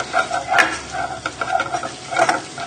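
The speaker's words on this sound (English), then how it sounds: "So just stirring in the butter just so it melts" Butter melting in a hot pan for a sausage and mash pie gravy, stirred with soft repeated scrapes over a light sizzle, close and alone without talk.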